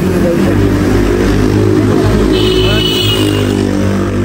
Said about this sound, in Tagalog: Pero mga tricycle dito, no?